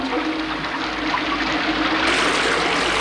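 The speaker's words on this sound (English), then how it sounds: "the first thing a pusher does in a raid is flush the drugs down the toilet" A toilet flushing, with a steady, loud rush of water running and trickling throughout, close by and alone.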